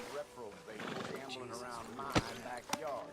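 A horse whinnies in the Western video game Red Dead Redemption 2, with a couple of sharp neighing bursts and clip-clopping hooves over steady speech and ambient game sound.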